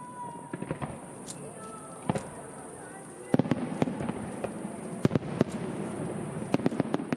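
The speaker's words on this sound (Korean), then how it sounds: "불꽃놀이가 시작되면 국남지의 낭만은 절정에 이릅니다." Fireworks burst outdoors at Gungnamji pond in Korea during a lotus festival: scattered sharp pops and bangs, sparse at first then quicker and more frequent, with faint crowd voices in the background.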